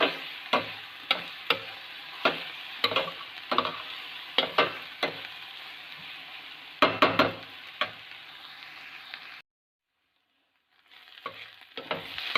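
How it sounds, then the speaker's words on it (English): Onion fries until brown for masala dosa, a steady sizzle broken by a series of sharp spatula taps and scrapes against the pan, close up, then a short silence before the sizzling resumes. "So we have to fry this onion until it becomes brown in color."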